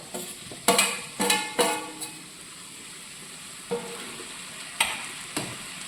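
Tomatoes dropped into a hot pan for a stew hiss and sizzle, with several sharp clattering stirs at an uneven rhythm and a steady frying crackle underneath.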